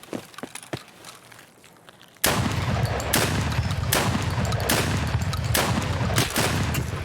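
Heavy gunfire erupts in a first-person raid shooter set in the woods as a shotgun blasts buckshot at armored enemies. A quiet stretch with faint sounds gives way after about two seconds to loud, dense, continuous shooting that lasts until the end.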